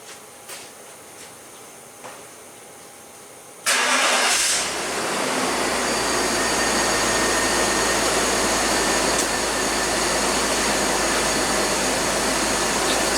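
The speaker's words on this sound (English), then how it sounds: "we're just going to go ahead and start this vehicle up" A 2004 BMW 325Ci cranks and fires after a quiet start, then settles into a steady, close idle with a constant broadband engine hum that holds for the remaining seconds.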